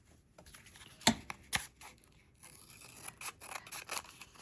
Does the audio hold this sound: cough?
no